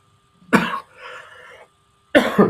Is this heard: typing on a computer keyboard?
no